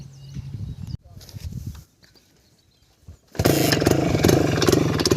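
A motorcycle engine fires up after an accelerator adjustment, starting after a stretch of quieter handling noise and then running at a loud, steady idle close by.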